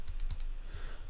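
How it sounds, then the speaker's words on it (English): Several quick keyboard key presses and clicks while working in Photoshop on a photo restoration, a short burst of sharp taps close by with a steady low background hum. "I'm hitting option, I'm left clicking or tapping with my tablet."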